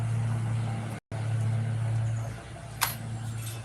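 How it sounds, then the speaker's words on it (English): A neighbour's lawnmower drones steadily nearby in a garden, a low continuous engine hum with one brief dropout and a short faint click near the end. "Sorry for the lawnmower sound over there"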